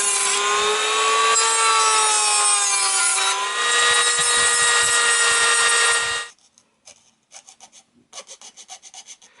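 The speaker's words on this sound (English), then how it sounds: "I've basically cut, filed and sanded those two loops off, so that bumper now fits neatly behind the two mud guards on the trailer bed" A rotary power tool grinds away plastic loops on an RC trailer bumper, a loud, high whine that runs for about six seconds and then stops. Quieter rhythmic rubbing strokes of filing or sanding follow.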